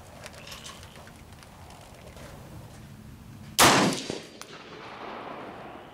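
A single loud, sharp rifle shot from an M1A National Match rifle at a shooting range, cracking out close and decaying into a short echo over a quiet background.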